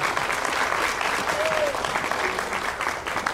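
Audience applause at a Brazilian Afro-culture forum, a steady wash of clapping filling the hall throughout, with a faint voice or whistle rising briefly above it.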